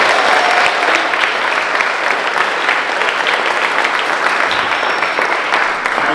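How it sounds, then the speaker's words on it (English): An audience at a youth worship concert gives a sustained round of loud, even applause, dense clapping throughout with no pause. "another round of applause for them"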